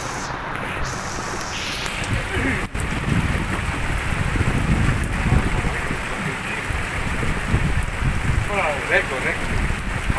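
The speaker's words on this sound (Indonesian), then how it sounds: "Oh, hujan semakin deras." Heavy rain intensifying during an outdoor fishing trip off Biak island, a dense, continuous hiss of downpour with wind rumble that thickens after the first couple of seconds, with a voice briefly heard.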